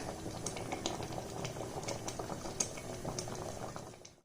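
Idli sambar in a pot bubbles at a steady low boil, with continuous soft gurgling and occasional small pops, quiet and close with no voices.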